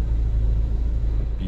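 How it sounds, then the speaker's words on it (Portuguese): A truck passing at an excavation site: a steady, heavy low engine rumble with road noise, fairly close and continuous, with no talking. "caminhão tá passando."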